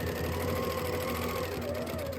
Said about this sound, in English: I'm just using this straight stitch, like I said, to baste this together